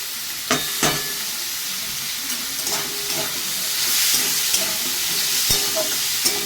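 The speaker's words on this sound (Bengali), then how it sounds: "একটু আমি হালকা ভেজে নেব।" Onion, beans, carrot and cabbage frying lightly in a pan for momo filling, a steady close sizzle with scattered sharp spatters and stirring scrapes, no voices.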